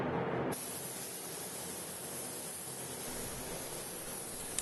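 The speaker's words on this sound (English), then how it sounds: "I found spraying the bottom first and then bringing it up around the sides and then finally doing the top portion last" Spray paint hisses steadily from a can onto a bathtub, a close, continuous airy spray that starts after a brief moment and holds evenly for several seconds.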